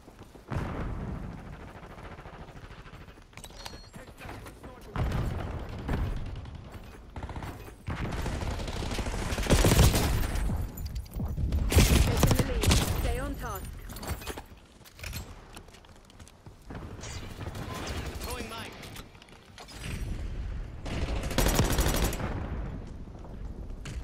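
Grekhova pistol firing in Call of Duty Black Ops 6, with loud, rapid bursts of shots that come and go over about twenty seconds, separated by short quieter gaps.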